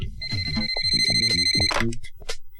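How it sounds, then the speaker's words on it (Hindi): A phone rings with a steady high electronic tone under lively background music, loud and close, before the ring cuts off partway through. "जाके फोन देखना प्लीज"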